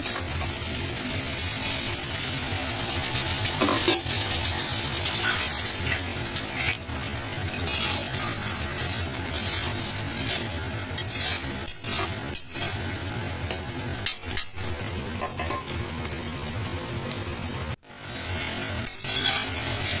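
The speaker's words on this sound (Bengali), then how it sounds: "খুব ভালো করে মশলাটা আমি কষিয়ে নিচ্ছি একটু জল দিয়ে আবার মশলাটাকে কষিয়ে নিব" Spice masala being cooked down in a pan with a splash of water for a soybean and taro curry: steady scraping and clinking of a utensil against the pan over a constant sizzle, close up, with no voices.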